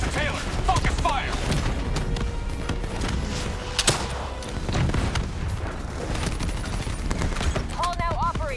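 Heavy gunfire in Call of Duty: Black Ops III, continuous automatic bursts and booming impacts in a dense firefight, with game voices and electronic effects layered over the shooting.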